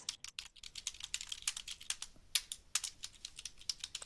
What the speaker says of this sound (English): Whoever's unmuted is typing, so please mute yourselves.